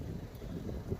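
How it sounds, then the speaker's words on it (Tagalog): Strong blizzard wind roars in a steady, dense rush against the microphone, loud and continuous with no voices. "grabe, ang lakas ng hangin."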